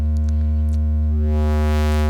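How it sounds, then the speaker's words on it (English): A steady sine wave hums from Joranalogue Walk 4 and Warp 1 synth modules, a pure loud continuous tone with faint clicks early on and a rising sweep of brighter noise toward the end. "when we put everybody in the middle, you get that sine wave again"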